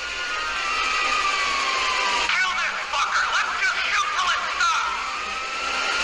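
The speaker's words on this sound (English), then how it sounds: "GTA sound effects." Car chase sound effects from the GTA video game: a loud, sustained engine roar with sweeping revs, brief skidding squeals and shifting pitch over about six seconds, with a voice mixed faintly in the background.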